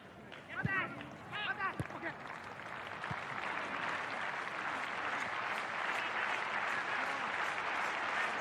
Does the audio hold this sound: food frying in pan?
no